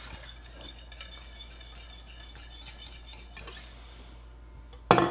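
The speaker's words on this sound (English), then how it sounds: "Give it one more stir." A utensil scrapes and swirls around a pot of keto mocha espresso ice cream base just off the heat, soft continuous stirring close by, ending in a sharper clink.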